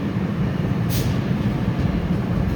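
Passenger train on the Northeast Corridor with Comet 5 cars rolling past, a steady, loud low rumble throughout with a brief higher hiss midway, no talk.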